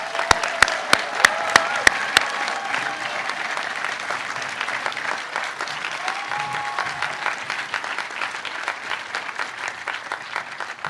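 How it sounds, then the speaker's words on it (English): A crowd at a high school commencement ceremony applauds the newest graduates in a long, steady round, with a few sharp, loud claps standing out near the start before the dense clapping settles into an even roar. "Let's have one last round of applause for our newest alums."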